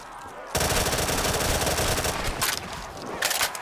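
Rapid automatic gunfire in a custom zombies video game map, a sustained loud burst of shots with brief gaps and a few renewed bursts near the end, no talking over it.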